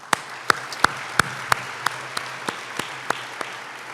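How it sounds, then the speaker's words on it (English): An audience applauds the University of Minnesota Foundation at a draft-day event, heard as sparse, evenly spaced claps over a low steady hum, fairly close and moderately loud for about four seconds. "Let's give the University of Minnesota Foundation a big round of applause"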